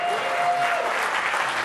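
A conference audience at a software developer session claps in reply to a show-of-hands question, a brief burst of dense, even applause from many people in a large hall.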